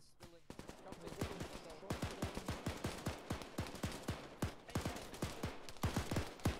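Rapid gunfire in the military shooter ArmA 3 during a Falklands campaign mission, dozens of sharp cracks in quick irregular bursts and volleys, some near and loud, others overlapping, sustained throughout.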